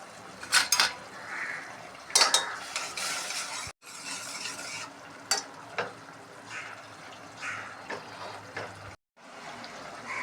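Metal utensil scraping and clinking against a pressure cooker pot while mixing soaked basmati rice in water, in short bursts with brief pauses, close and moderately loud.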